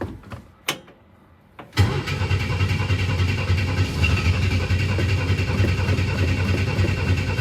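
A 1962 Chevy II engine cranks hard after a few quiet clicks and keeps turning over steadily without catching, loud and close for several seconds, the starter motor's drone continuous.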